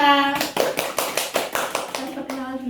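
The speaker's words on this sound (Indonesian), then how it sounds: "Tepuk Tepuk tangannya untuk Kak Nara" Students clapping at an anti-bullying seminar in a school class, a run of sharp, fairly close claps in an uneven rhythm, with voices speaking before and after the clapping.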